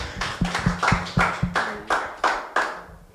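Congregation in a church clapping in a steady rhythmic beat, roughly a dozen sharp, close hand claps over about three seconds, with no speech over them.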